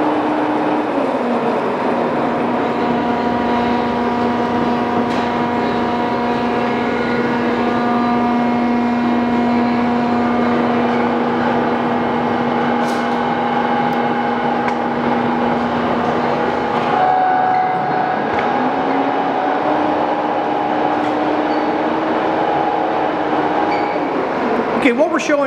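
A Giddings & Lewis model 65 D4 T horizontal boring mill runs at 240 RPM with a steady mechanical hum and whine whose pitch briefly drops and rises, while someone talks over it.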